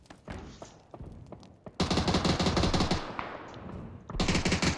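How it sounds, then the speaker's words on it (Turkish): Gunfire in PUBG, a duo battle royale match, with scattered single shots followed by sustained rapid automatic bursts, loud and close, pausing briefly before another burst resumes. "onun önünde ama öbür taraftan da sıkıyorlar"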